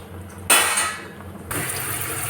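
Boiled noodles for veg Hakka noodles are drained, and water gushes out in two loud pouring surges, the second settling into a steady stream.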